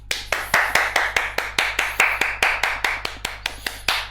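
A small group claps in slow unison for a dating-game match, each sharp clap ringing out about three times a second in a steady, evenly spaced rhythm with nothing else audible.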